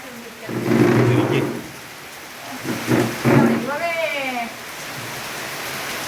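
Steady rain hisses throughout while low thunder rumbles roll in twice; a brief voice-like tone rises near the end.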